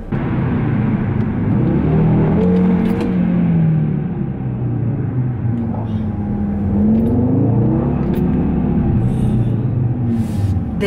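Audi RS3 with about 400 hp roaring while being driven, a loud continuous engine growl rising and falling in pitch as it revs, heard from inside the car throughout.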